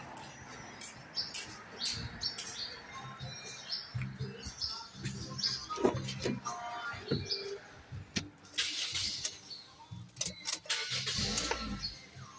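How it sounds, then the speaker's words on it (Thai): Toyota Corolla Altis being started while fitted with a misfire-related ignition fault, a brief cranking and catch of the engine amid chirping birds and background noise, fairly quiet and distant-sounding. "เดี๋ยวผมจะทำการสตาร์ทนะครับ"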